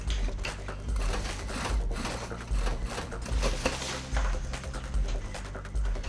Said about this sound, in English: The worker sews the strap and buckles onto the bag, strengthening the connection with reinforced stitching